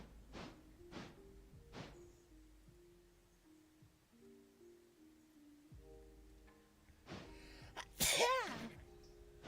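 A single sharp sneeze bursts out near the end of the clip, close and loud, after a few faint clicks and knocks in a quiet space.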